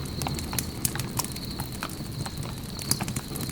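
Horse hooves clip-clop at a slow, uneven walk on a Wild West trail, moderately near over a steady outdoor hiss, with no voices.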